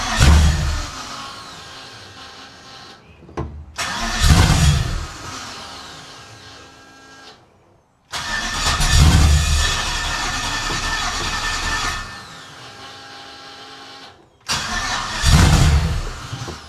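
A 1969 Chevrolet C-10 restomod engine with its exhaust cutouts open fires up and runs loud and close, rising in several strong revving surges separated by brief drops and pauses.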